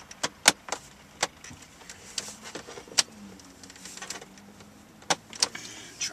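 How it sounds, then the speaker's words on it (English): Plastic clips snap and click as a silver dash trim panel is pried loose on a Mazda CX-7, giving sharp separate pops and ticks against a faint quiet interior background. "we can go up to the top and pry on the edge of this silver panel."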